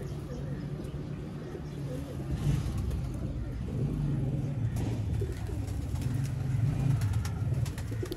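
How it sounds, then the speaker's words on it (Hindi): Pigeons kept by a hobby breeder coo in low, rolling, repeated calls close by, with faint voices and background noise underneath. "कबूतर है"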